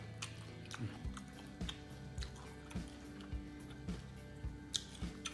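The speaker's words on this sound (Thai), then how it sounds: "ชิมหัวกุ้งแบบอย่างนี้เลยครับผม" Close, wet chewing of crunchy stir-fried shrimp heads cooked with Thai chili paste, with soft bites and squishy mastication repeating at a steady rhythm on their own, quiet overall.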